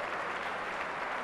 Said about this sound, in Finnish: Berliiniläisyleisö antaa oikeutetut ja reilut aplodit miehelle, joka tyrmäsi heidän